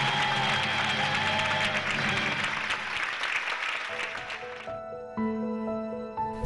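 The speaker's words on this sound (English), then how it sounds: "the audience burst into applause." A theatre audience applauds after a ballet performance, a dense wash of clapping that fades out after about four and a half seconds as sustained musical tones take over.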